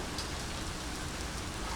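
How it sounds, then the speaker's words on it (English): Steady rain falls through the whole stretch, an even wash of dense hiss with no gaps, moderately loud and close, with no voices over it. "oh look, it's raining"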